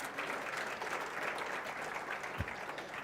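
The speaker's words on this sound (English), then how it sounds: "Are you not applauding the principal?" An audience at a South African Mathematics Foundation awards function applauds the school principal, a steady wash of clapping throughout, fairly distant and even, with one brief low thump near the end.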